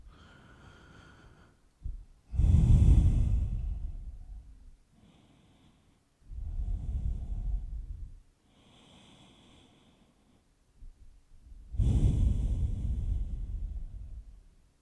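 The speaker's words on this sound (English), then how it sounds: "We're just going to pause here, take a few resting breaths." Resting breaths during a yoga session, three slow, deep breaths close to the microphone, each a long audible exhale with soft inhales between and near-silence around them.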